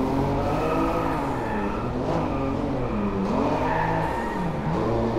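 A six-cylinder boxer car engine revving hard and continuously in the game Driveclub, rising and falling in pitch as it accelerates, loud and close with no voices.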